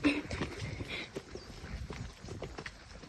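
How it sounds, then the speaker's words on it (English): A horse trotting outdoors, hooves clip-clopping in a steady quick rhythm close by, with wind and rustling noise mixed in. "Right, Kyle, let's have a little trot"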